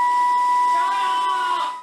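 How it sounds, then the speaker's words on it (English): A hair dryer taped to a flute blows air through the instrument, producing a steady shrill whistling tone over the dryer's whoosh, loud and close, holding for nearly two seconds before cutting off. "How to deeply annoy your brothers, part three. Hair dryer, tape,"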